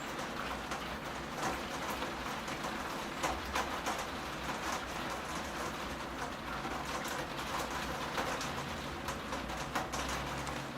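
Steady rain falling outdoors during a damp November day, a dense continuous patter and hiss that never lets up, with no voices.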